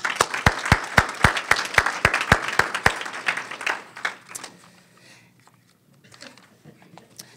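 An audience applauds at an award presentation during a National League of Cities congressional city conference. Close, loud, evenly spaced claps stand out against broader clapping, then the applause fades into murmur and a few scattered claps.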